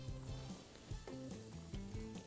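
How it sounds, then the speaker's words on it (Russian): Steady sizzling of zucchini frying in a pan on a grill, a constant crackle with occasional stirring scrapes and a low tonal hum beneath. "выкидываем сюда кабачки, пусть они жарятся"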